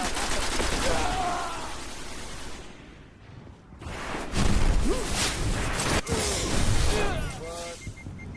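A grenade blast in the shooter video game Destiny booms amid loud gunfire and whooshing effects, with an excited voice talking over the dense, chaotic in-game action.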